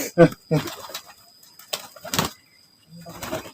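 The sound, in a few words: courting pigeons cooing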